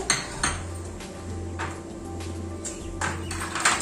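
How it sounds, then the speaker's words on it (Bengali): Fried paneer pieces going into a curry pan on low gas, heard as repeated metallic clinks and scrapes of utensils against the pan, with a steady low hum underneath. "ফ্রাই করে রাখা পনির দিয়ে দেব।"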